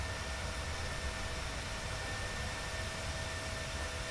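A PMDG 737-800 jet taking off in Microsoft Flight Simulator gives a steady, dense engine roar with a broad hiss that stays loud and even throughout, with no talk over it.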